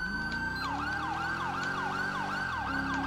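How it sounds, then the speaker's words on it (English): A wailing police siren in FivePD sweeps up and down repeatedly, loud and close, over a steady engine hum. "I hear your siren"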